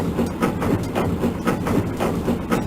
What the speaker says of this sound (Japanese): 今動いてる電車。